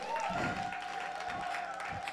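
Audience clapping at a women's event in Dallas, Texas, a short burst of applause with a few distinct hand claps and thumps over a steady background hum.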